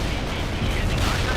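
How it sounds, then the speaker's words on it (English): Artillery fire and airstrikes in the strategy game World in Conflict: a brief, loud burst of dense, rumbling explosions with faint voices in the mix. "Romanov, call in artillery and airstrikes on them"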